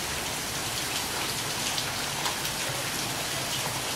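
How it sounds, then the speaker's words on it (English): Steady rain falls on a rainy Saturday in Antigua, a dense, even hiss of drops on surfaces that continues without pause at moderate loudness, with no voices. "You see the rain?"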